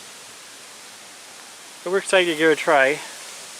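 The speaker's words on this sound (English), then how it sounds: "we're extremely close to this waterfall, that small one" A small waterfall runs right beside a two-person tent at a campsite on the Manistee River Trail, a steady rushing hiss that fills the background while a person briefly speaks over it.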